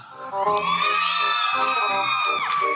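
Cheering and whooping at a wedding celebration, a loud crowd of voices yelling and shouting together with rising and falling tones, sustained and close, with no clear clapping audible.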